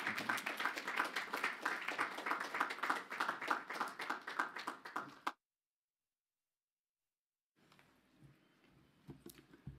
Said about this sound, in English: Clap loudly enough so he can hear you behind that door.